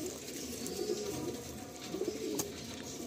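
Pigeons coo at a pigeon sale in Garia, Kolkata, with two soft, rolling coos a second apart over a low, murky background.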